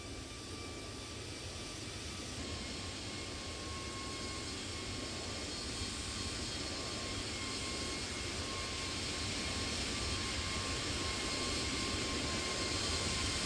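Steady, distant roar of Boeing 777-300ER jet engines during the climb to cruise in a flight simulator, a smooth unbroken drone that slowly grows a little louder.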